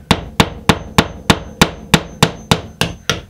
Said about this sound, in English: punch a hole, like that, right? Make it a little bit bigger.